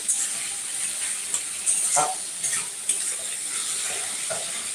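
Bhola fish curry masala being sautéed in a pan, with a steady hiss of frying and a few short scraping stirs, heard alone without talk.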